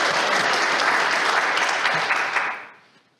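Steady, dense audience applause at a church service that holds for a few seconds before fading out.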